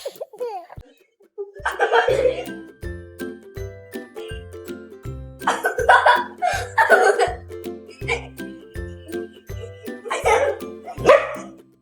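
A big dog barks and yips repeatedly in short bursts while playing with a baby indoors, the barks loud and close over a steady rhythmic background with light jingling.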